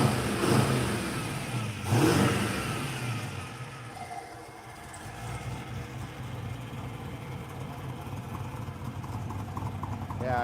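A turbocharged LS V8 with an aggressive cam revs in a garage, two sharp blips early on, then settles into a lumpy idle, with people talking nearby.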